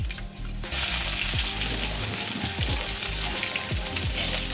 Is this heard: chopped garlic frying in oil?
yes